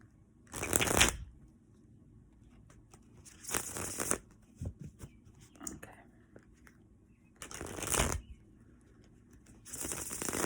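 Tarot cards are shuffled in four separate bursts of crisp riffling, close but fairly quiet, with faint handling noises between them and no clear talk.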